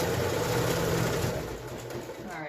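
A sewing machine runs steadily, stitching the seam of a fabric face mask that has a filter pocket and ties, a close continuous whir that eases off slightly toward the end.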